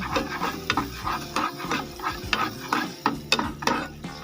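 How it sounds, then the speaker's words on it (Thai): A spoon stirs a heaped spoonful of butter into hot melted caramel for popcorn, with rhythmic scraping strokes against the pan and a soft sizzle throughout, close and steady. "ปิดไฟแล้วก็ระวังเอาเนยเนี่ยหนึ่งช้อนพูนเนี่ย ใส่ลงไปก็รีบคนข้ากัน"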